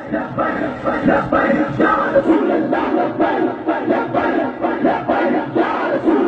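A large crowd at a 2017 Faizabad sit-in protest chants religious slogans in unison, loud, rhythmic and steady, with rising and falling call-and-response surges throughout.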